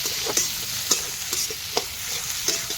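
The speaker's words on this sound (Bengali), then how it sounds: "আর বেশি করে রসুন দিতে হবে এই রসুন কুচিয়ে নিয়েছি আর কাঁচা লঙ্কা আর এর মধ্যেও আদা কুচি আছে দিয়ে দেবো ভালো করে এটা ফ্রাই করে নিতে হবে" Chopped garlic, green chilli and ginger fry in hot oil for a fish recipe, giving a steady close sizzle broken by several sharp scrapes and clicks of a spoon stirring the pan.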